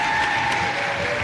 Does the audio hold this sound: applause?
yes